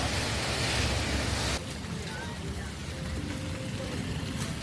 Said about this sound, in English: The waves have been so big, you can hear the crash like thunder in your soul.